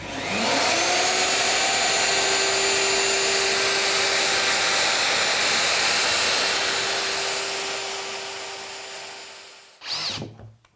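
Power drill driving screws through timber shed frame sections: a loud, steady high whine held for about nine seconds, then cutting off with a brief clunk of handling.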